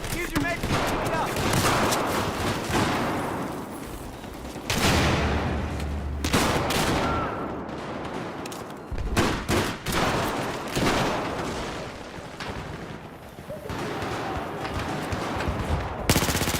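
Gunfire in the Battlefield video game: dense, loud bursts of automatic weapons and explosions rattle almost continuously, with a player's voice talking over the combat.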